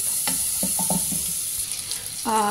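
Zucchini for soup sizzling and frying in a pan, a steady hiss with a few soft clinks and stirring knocks, followed by a brief tonal ring near the end.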